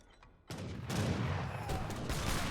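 Falconet cannon shots in a strategy video game: a short quiet stretch, then a sudden volley of blasts opens with a boom and rolls into sustained overlapping gunfire and artillery rumble that stays loud to the end.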